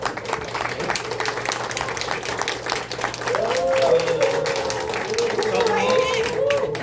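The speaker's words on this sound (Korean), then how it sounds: "우리 뜨거운 박수 한번 하겠습니다." An audience at a church night gathering claps for a pastor, steady applause that swells louder midway and continues throughout, with a few voices calling out over it.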